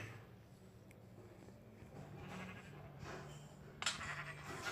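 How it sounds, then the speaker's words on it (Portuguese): Sheep bleat in a blocky sandbox video game while the player searches for a missing sheep, a couple of short moderate calls over a low background hum. "Cadê a outra ovelha?"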